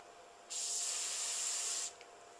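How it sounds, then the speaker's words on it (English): A single sharp aerosol spray of Interflon Fin Super Teflon lubricant oil hisses for just over a second, close and steady, then cuts off into quiet. "when I lubricate with Fin Super, our Teflon spray oil"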